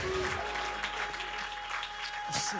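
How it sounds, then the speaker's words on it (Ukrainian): A steady wash of applause from a crowd, dense and continuous, with some voices mixed in near the end. "Більше, більше, більше, друзі, овації."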